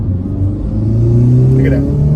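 A modified 2020 Honda Civic Type R engine revs close by, a loud, steady low drone whose pitch climbs gradually, with someone talking over it.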